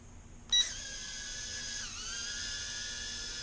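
A Snaptain H823H mini drone spins up with a click into a high, thin, steady motor whine, dipping briefly in pitch as it adjusts, close and continuous with no talk.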